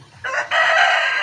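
A free-range village rooster crows loud and close, a short rising note followed by a long sustained call, after a brief quieter cluck.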